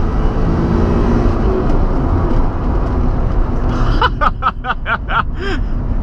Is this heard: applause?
no